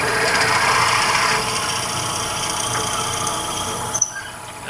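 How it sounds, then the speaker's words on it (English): A 7mm bit bores all the way through a pen blank held on a wood lathe, making a steady high-pitched whirring whine up close that eases off slightly near the end, with no voices. "And now I'm going to drill all the way through."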